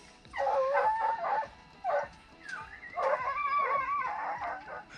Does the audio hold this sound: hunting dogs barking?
yes